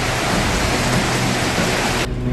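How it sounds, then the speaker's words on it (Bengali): Heavy rain pours down outside in Guwahati, a dense, steady broadband hiss with no voices, cutting off abruptly near the end. "বাইরে প্রচুর বৃষ্টি হচ্ছে"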